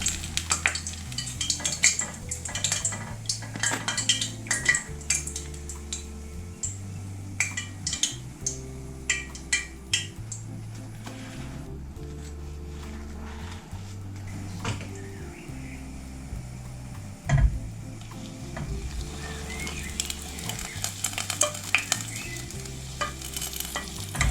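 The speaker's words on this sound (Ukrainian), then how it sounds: "В сковорідці можна обпектися, вони так ляпають на всі сторони" Oil sizzles and crackles steadily as belyashi, Ukrainian dough pastries, fry, with sharp spattering pops and occasional clinks of a utensil stirring in the pan.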